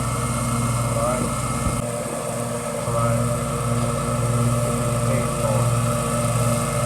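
A zero turn mower engine drones steadily at close range through a slow K-turn, a constant mid-pitched hum with a brief dip and recovery partway through.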